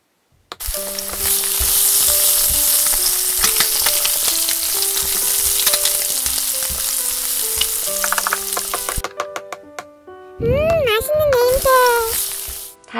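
Steady loud sizzling of frying from a Play-Doh toy stove fills most of the clip, with light scraping and clicks over it, then a pause and a short burst of playful tones.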